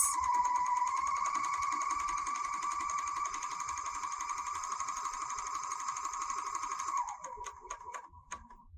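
A serger stitching a rolled hem runs in a steady, high-pitched whir for about seven seconds, then slows and stops, followed by a few small clicks and handling sounds.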